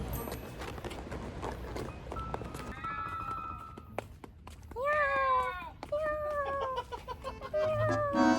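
A cat meows several times outdoors at night in a city, with drawn-out wavering calls in the second half under background noise.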